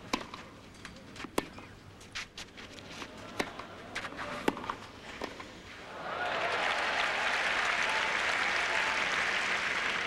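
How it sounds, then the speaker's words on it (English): A tennis crowd at Roland Garros during the 2002 French Open claps, starting after scattered sharp knocks and thuds and swelling into steady, sustained applause that fills the second half. "Crowd are trying to get excited by this."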